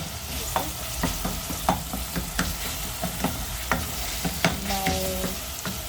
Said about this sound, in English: So we stir now, mix it well.